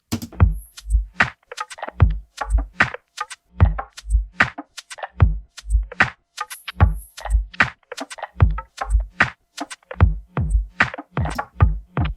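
A dull, muffled drum beat with its high end cut by an EQ plugin, a steady groove of thumping kicks and softened snare hits lacking any bright top end.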